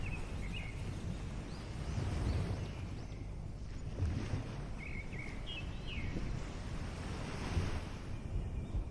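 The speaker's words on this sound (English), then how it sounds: "The waves are gentle, rolling in and out with a rhythmic, calming sound, leaving behind patterns on the sand." Gentle ocean waves roll onto a beach in a slow, steady wash, swelling and easing under light wind noise, with faint distant bird calls chirping now and then.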